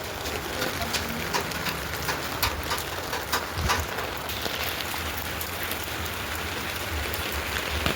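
Rain falling steadily across a village path, a dense even hiss of drops on surfaces with scattered sharper patters, moderately close and constant, a faint bird call briefly audible.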